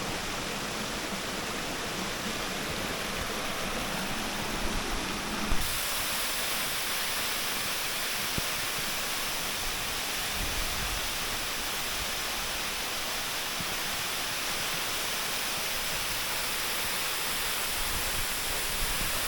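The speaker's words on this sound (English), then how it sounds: "We made it to the falls." A steady, roaring rush of falling water at Cascade Waterfall in Jamaica fills the air with dense white noise that stays constant throughout.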